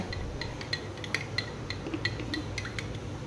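A spoon stirs jaggery into a drink in a glass or cup, giving a string of light, quick metallic clinks over soft background hiss, close and unaccompanied by voices.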